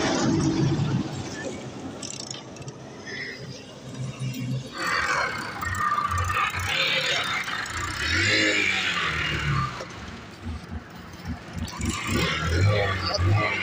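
A motor vehicle engine starting and running, its rumble rising and falling as it revs, heard up close while people talk over it throughout.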